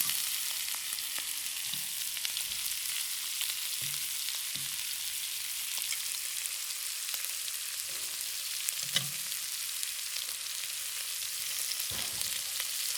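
Shrimp and asparagus fry in oil with a constant soft sizzle, punctuated by faint occasional knocks and scrapes as the pieces are turned.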